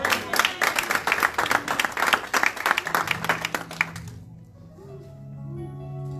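A church congregation claps and cheers for the Lord, dense rhythmic applause that fills the room for about four seconds, then fades out into a quiet tail with faint tones lingering.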